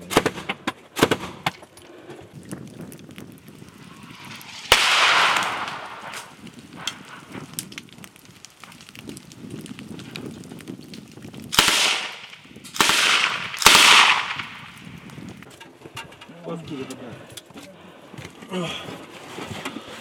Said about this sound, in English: we're actively under fire from Ukrainian positions or launching artillery on our position